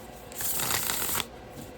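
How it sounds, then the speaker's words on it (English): A quick riffle shuffle of a tarot card deck, a dense crisp flutter lasting about a second, close and clear with no talking. "first I'm going to shuffle it because it's a great shuffle"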